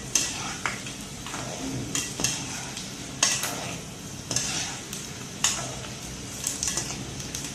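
Rice pakoda deep-frying in hot oil, with a steady bubbling sizzle under repeated scraping and stirring clinks from a utensil, close and moderately loud.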